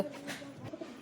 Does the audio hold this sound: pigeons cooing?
yes